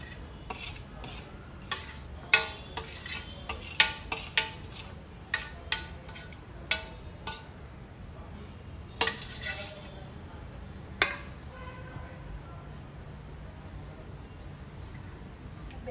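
Roasted gram flour being stirred together with sesame seeds, poppy seeds and dry coconut in a bowl: a series of scattered scrapes and light taps of a spoon over a faint steady background hiss, with quiet gaps between strokes.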